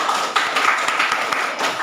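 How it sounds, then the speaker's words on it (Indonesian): A classroom of students claps briefly for a student group, a short burst of scattered hand claps with distinct individual smacks, moderately loud and close. "tepuk tangan untuk kelompok Cynthia"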